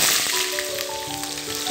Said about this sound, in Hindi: तेज़ आंच पे हम प्याज को लाइट ब्राउन करेंगे।